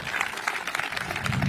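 Scattered audience clapping during the San Francisco mayor's State of the City address, a moderate patter of hands that builds slightly toward the end, with crowd murmur underneath.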